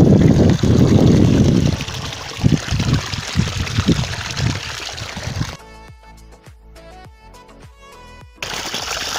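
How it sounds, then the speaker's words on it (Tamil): Water gushes steadily from the outlet pipe of a solar-powered 3HP pump, a loud continuous splashing flow that thins to a lighter trickle partway through before surging back. "இதில் வந்து நம்ம வாட்டர் வந்து ஃபுல்லாக திறந்தோம்னா இந்த அளவுக்கு நமக்கு ஆவரேஜாக வரும்"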